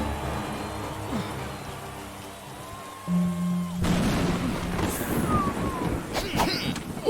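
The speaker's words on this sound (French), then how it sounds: "il pleut et tout quoi" Rain patters steadily in a gladiator fighting video game, a dense hiss under game tones and music, growing louder and rougher midway with a few thumps near the end.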